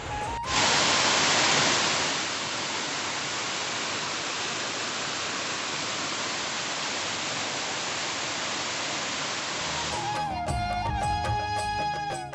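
The Satbahni (Jhuinjh Jharna) waterfall in Kharsura, Surguja, Chhattisgarh roars as a dense, steady rush of falling water, loud and close throughout, ending with a brief clatter of handling noise.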